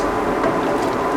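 Eggplant and coconut milk stew is stirred in a pot, a steady, loud wet sloshing and bubbling texture running without pause and without speech.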